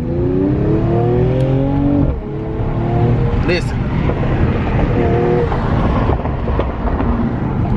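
A 2020 Mercedes-Benz CLS 53 AMG engine with stock exhaust revs up hard with rising harmonic tones, briefly drops at a shift, then roars on loudly; a voice speaks briefly over it.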